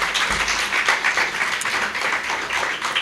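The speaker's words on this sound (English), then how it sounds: "Big hand of applause to everybody." An audience at a corporate awards ceremony claps, a lively patter of many hands in a moderately sized room, steady for a few seconds.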